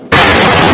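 A sudden, loud explosion in an action film erupts after a brief quiet moment, becoming a dense, roaring blast that fills the whole short clip.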